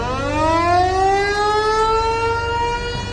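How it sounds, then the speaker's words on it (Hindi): A loud civil defense siren in Pakistan-occupied Jammu and Kashmir wails continuously, its pitch rising and holding steady, with no other sounds. "जो अभी आपने सायरन की आवाज सुनी, ये पाकिस्तान के कब्जे वाले जम्मू कश्मीर की है।"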